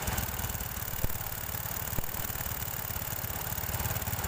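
A Honda Supra 125 motorcycle engine holds a raised, steady idle with the throttle untouched, a continuous close and even putter running throughout.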